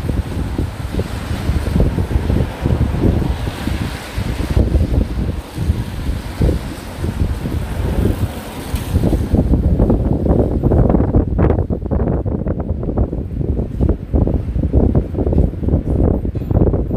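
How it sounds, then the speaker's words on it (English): Strong wind gusts across a Manhattan street near rail yards on Christmas Day, a loud, continuous rushing roar buffeting the microphone throughout, with no talking. "It's gonna get windy."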